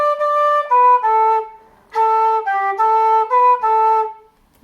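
Flute playing two phrases of a traditional tune, clear sustained notes in a short melodic line, a brief pause, then the line repeated, close and alone.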